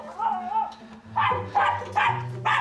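A dog barks repeatedly in short, loud bursts, fairly close, after an opening whine; a rhythmic series of deep woofs.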